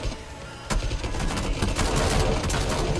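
Gunshots in PUBG begin with a sharp crack, followed by a loud, dense volley of rapid automatic fire that keeps going to the end, close and clear.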